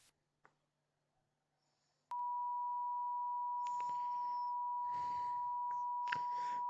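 A played recording of the Emergency Alert System attention tone, a steady loud electronic sine tone that starts abruptly after a quiet, sparse opening and holds continuously, with faint broadband crackles and noise bursts layered over it.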